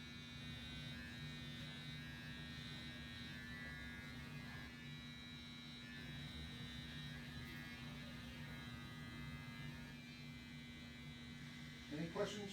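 An electric hair trimmer buzzes steadily at close range with a constant mains-like hum throughout, and a soft handling knock comes near the end.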